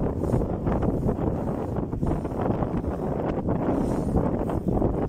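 Steady, heavy roar of wind buffeting the microphone while riding a bicycle into a strong headwind, loud and unbroken with gusty fluctuations and no voices.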